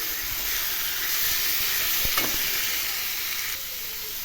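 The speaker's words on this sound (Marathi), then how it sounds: "हे सुद्धा चांगलं व्यवस्थित परतून घ्यायचं तेलामध्ये" Mutton stir-fries in hot oil over a high flame, a loud, continuous close sizzle with faint scraping stirs running throughout.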